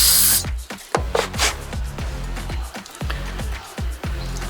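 Short repeated hissing bursts of aerosol cleaner sprayed into the jets of a Holley 650 double-pumper carburetor, close and loud, in a quick uneven rhythm.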